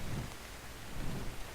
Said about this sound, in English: And it's night and it's raining.